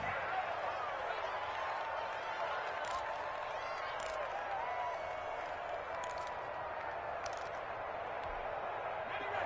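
Steady crowd roar from a video game American football broadcast, the Browns taking over after a punt, a continuous stadium murmur filling the whole stretch with a few brief cheers and claps, while a commentator talks over it.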